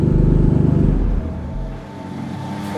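A BMW M2 CS with a freshly fitted carbon exhaust gives a deep, loud rumble that pulses briefly and then settles into a lower, fading idle, with no voices.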